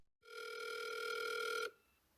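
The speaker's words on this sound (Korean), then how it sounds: "오랜만에 전화해봐야겠다." A single telephone ring tone sounds while a call is placed, a steady electronic buzz of about one and a half seconds that starts and stops abruptly in an otherwise quiet setting.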